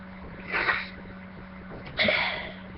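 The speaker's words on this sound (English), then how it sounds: "sneezing, obviously" Two quiet, close sneezes come about a second and a half apart, each a short burst standing out from a faint, steady background hum.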